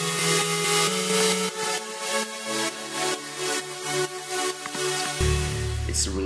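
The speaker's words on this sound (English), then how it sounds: "You can also add an additional saw or pad as well" A thick layered Sylenth1 synth with an extra saw or pad, heavily sidechained, pumps rhythmically in short swells, bright and dense, before a deep bass note enters near the end.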